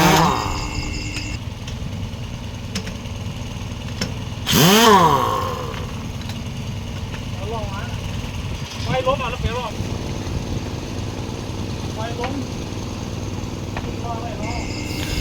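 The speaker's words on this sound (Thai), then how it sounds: "ปั๊มลมแล้วก็ปั่นไปเรื่อย ๆนะคะ เราจะไม่ปิดเครื่องนะคะ" An engine-driven air pump runs steadily beside a heavy truck during a tire change, giving a constant low droning hum with a brief louder whoosh midway. Voices come and go over it.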